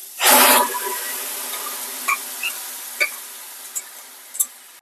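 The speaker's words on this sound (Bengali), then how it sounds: "আমরা মাংস কষাটার মধ্যে ডালটা ঢেলে দেবো।" Boiled chana dal is poured into fried, spiced chicken in a pan, giving one loud splashing rush followed by a soft, steady sizzle and a few faint clicks.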